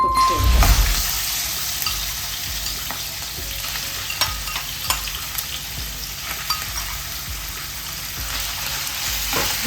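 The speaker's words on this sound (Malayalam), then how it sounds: "ചൂടായ എണ്ണയിലോട്ട് നമ്മൾ റെഡിയാക്കി വെച്ചിരുന്ന ചെമ്മീനില്ലേ, അതിനകത്ത് ഇട്ട് കൊടുക്കാം" Prawns drop into hot oil with a brief loud splash, then settle into a dense, steady sizzle with occasional stirring clinks close by.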